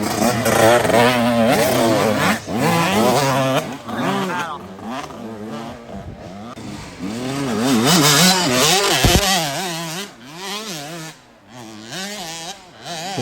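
Dirt bike engines rev and rise and fall in pitch as riders race on an off-road cross-country course at the IXCR Rock Run 2021, with people talking over the engine noise throughout.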